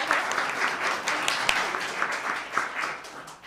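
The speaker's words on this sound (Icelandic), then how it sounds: "mér langaði til að gefa honum líka gott klapp" A concert audience applauds the composer, a dense, sustained patter of many clapping hands close by and fairly loud throughout.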